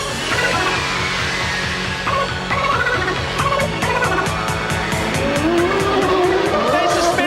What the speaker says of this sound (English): There's a spinner, and it's one of the McLarens